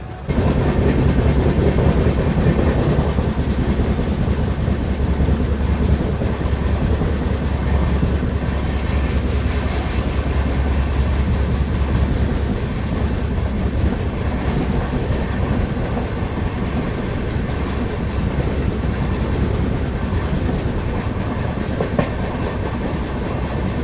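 Darshan Express train running after departing Pune station, with a loud continuous rumble and steady rail clatter heard up close from onboard throughout.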